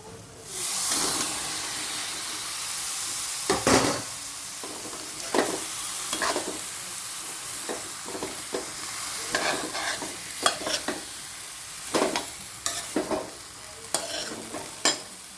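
Steady sizzling in a hot pan as mango pieces are stirred in for Kerala-style mango pickle, with repeated scraping stirs at irregular intervals, close and fairly loud, with no talking.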